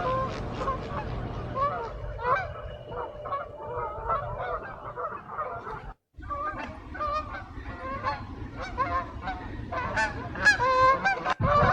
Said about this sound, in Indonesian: They are honking.